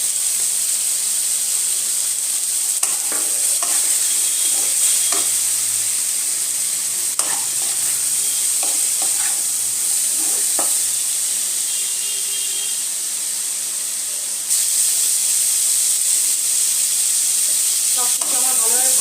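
Jhinge aloo posto (ridge gourd and potato) frying with Kashmiri chili powder, a steady close sizzle with hiss running throughout, broken by scattered clicks and scrapes of stirring, no talk.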